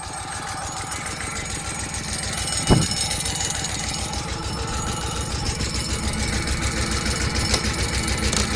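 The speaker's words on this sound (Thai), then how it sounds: "เสร็จแล้วเราก็เตรียมตัว ครับสตาร์ทเครื่อง" A fertilizer blower sprayer engine spreading dry cow manure runs loud and close with a rapid steady knocking putter, a brief rattle near the start, then keeps chugging evenly.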